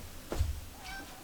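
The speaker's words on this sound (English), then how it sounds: "Hold on, my kitty wants out" A pet cat named Winnie meows at a door wanting to be let out, a single short indoor call close by, with faint room noise around it.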